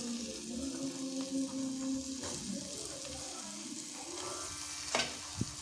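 Paneer pieces frying in a pan, a steady close sizzle and crackle with light stirring and a couple of sharper clinks near the end.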